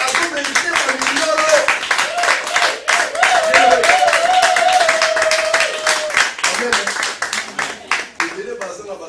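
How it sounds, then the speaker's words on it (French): A church congregation at a Sunday service claps along while a voice sings or chants over them, steady rhythmic hand claps close by under the held vocal line, with occasional cheers. "C'est bien, il mérite les acclamations."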